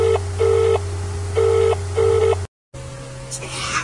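Telephone ringing for an incoming caller to a show, heard as four evenly spaced electronic ring bursts over a steady line hum, followed by a brief cut and a different tone.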